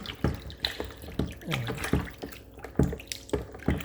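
Beef being washed by hand under running tap water, with splashing and sloshing in uneven bursts, close up, while someone talks over it.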